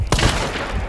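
A single sharp sniper rifle shot in the video game Hunt: Showdown, a loud close crack with a short rumbling tail.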